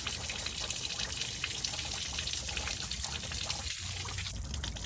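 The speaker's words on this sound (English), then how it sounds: "I gotta get the hose running." Water from a garden hose runs through a car's cooling system during a coolant flush, a steady low splashing and trickling heard faintly and continuously with no talking.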